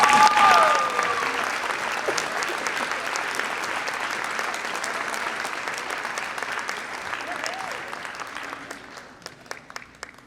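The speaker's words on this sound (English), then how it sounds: "Please help me giving a round of applause to Melissa Cisneros." An audience at a nursing graduation and pinning ceremony applauds steadily for a student receiving an award. The dense, even clapping fills the hall for about ten seconds, with a brief voice near the start, before it slowly fades.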